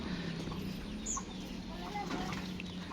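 Free-range village chickens cluck softly in the background with a few short calls, faint and distant over a low hum.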